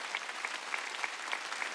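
Church congregation clapping during a Sunday worship service, a dense steady burst of applause filling the whole short stretch at even loudness.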